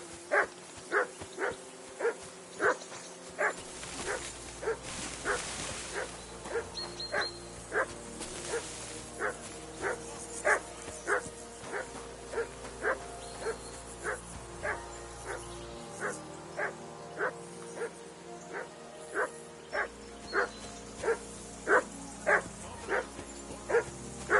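A hound in Kingdom Come Deliverance 2 barks over and over in a steady, evenly spaced rhythm, fairly close, with quiet game ambience underneath.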